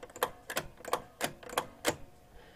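A 1962 United Embassy shuffle alley stepper unit clicking as it steps, six crisp, snappy mechanical clicks at a fairly even pace, close and alone.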